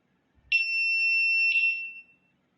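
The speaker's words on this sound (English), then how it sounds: "you'll hear the wheels start beeping" A Begode electric unicycle beeps during a firmware update: two shrill electronic tones in quick succession, merging into one sustained beep of about a second and a half, close and clear against silence.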